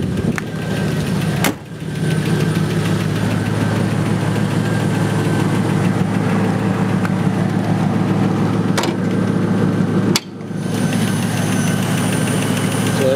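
A 1997 Land Rover Discovery engine idles steadily with a low, even rumble and a soft, quiet exhaust note, close up, with a couple of brief clicks.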